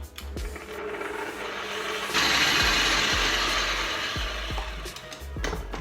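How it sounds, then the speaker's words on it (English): A stand mixer beats Reese's Pieces cake batter, a steady close mechanical whirr that grows louder and brighter partway through, with faint knocks from the bowl. "Now we're going to put this under our mixer"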